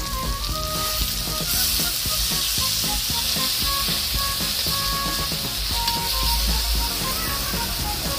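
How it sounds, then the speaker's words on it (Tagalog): Garlic, onion and tomato sautéing in a hot pan, a steady loud sizzle and crackle of frying with occasional stirring scrapes throughout, and no talking. "igisa na natin ang bawang, sibuyas at kamatis."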